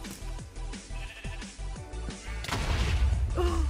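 Sheep in the Minecraft minigame SheepWars bleat several times in quick succession, followed by a loud crashing blast that fills the rest of the moment.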